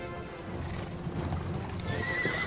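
A horse neighs and its hooves clip-clop in a medieval fantasy drama scene, a steady mid-distance rumble with a whinny rising near the end.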